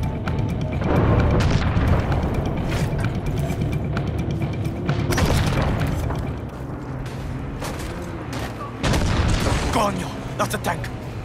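Tank cannon fire and heavy explosions in the Far Cry 6 video game, deep booming blasts and rumbling combat noise throughout, with a sharp loud hit near the middle and another near the end, voices talking over the battle.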